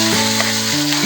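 Squid sautéing in oil in a pan for adobong pusit, a close, loud crackling sizzle with stirring scrapes, no talking.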